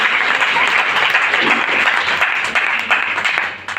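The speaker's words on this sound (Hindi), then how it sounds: "एक बार गुरुदेव के लिए जबरदस्त ताली होनी चाहिए।" An audience at a business seminar in Ludhiana, Punjab bursts into loud, dense applause, a sustained roar of many hands clapping that eases slightly toward the end.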